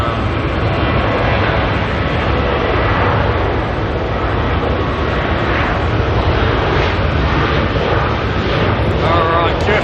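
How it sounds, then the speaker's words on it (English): Qantas flight QF156 jet departing Auckland Airport for Melbourne, a loud, continuous engine roar throughout, with some voice mixed in. "QF156 here heading off to Melbourne"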